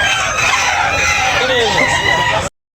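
Chickens cluck and a rooster crows nearby, loud and close, amid background clamor at a chicken market in Tabunok before the sound cuts off abruptly.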